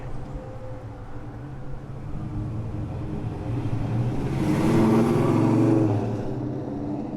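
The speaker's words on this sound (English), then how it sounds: "That's a very, very old custom car." A very old custom car passes on a Brooklyn street in North Williamsburg, its engine rumble building from the street hum to a close, loud peak, then fading as it moves away.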